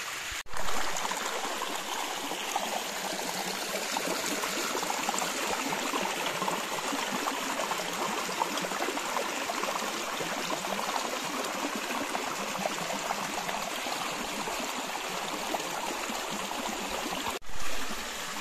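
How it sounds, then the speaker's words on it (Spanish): A small creek flows and trickles steadily for the whole stretch, a continuous, fairly close rush of water with no talk. "estos arroyos todavía tienen algo de agua"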